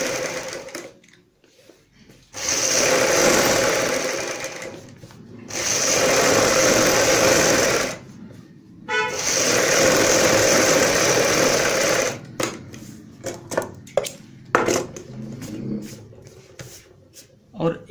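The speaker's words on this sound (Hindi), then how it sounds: "इस प्रकार ऊपर से यहां पे एक पैर चौड़ाई वाली सिलाई लगाएंगे" A sewing machine runs in three long, loud, steady bursts, stitching buckram folded inside a salwar hem, followed by scattered clicks and handling noise. Someone talks over it.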